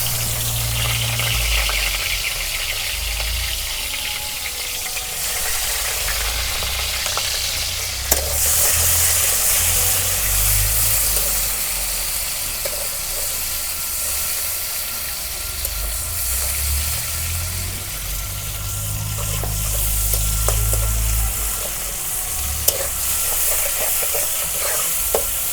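Chopped onion sizzles and fries steadily in hot oil for a Bengali mola fish and potato chorchori, a continuous close hiss with occasional stirring clicks and no talk.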